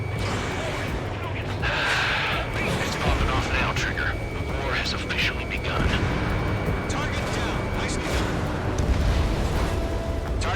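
An explosion as a radar vehicle is destroyed in the combat flight game Ace Combat 7, a low rumbling blast set amid constant jet engine roar and battle noise.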